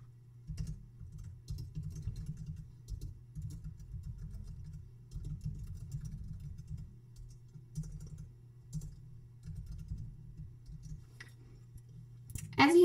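Steady keystrokes on a computer keyboard tap in quick irregular bursts with short pauses, fairly close and soft, and no voices over them.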